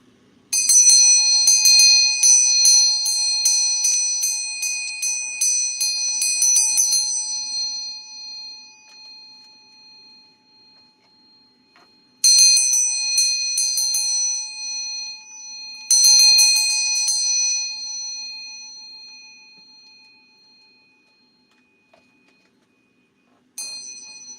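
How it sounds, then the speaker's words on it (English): A small handbell rings in rapid repeated bursts, three clear ringing spells with fading tails and quiet gaps between, then a final brief ding near the end, bright and close with no talk. "Ring my little bell"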